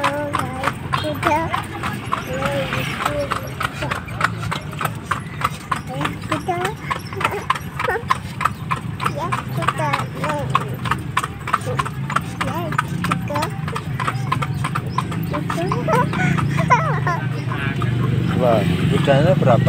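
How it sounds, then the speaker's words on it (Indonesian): Horse hooves clip-clop in a quick, steady rhythm near a large mosque in Karanganyar, Indonesia, the close clatter continuing under people chatting and passing road traffic. "Ayo naik kuda."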